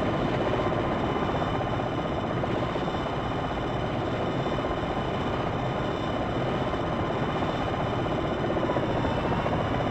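A Longbow attack helicopter hovers in the flight sim Jane's Longbow Gold, its rotor and turbine making a steady, dense drone that stays even and loud throughout, with no voices.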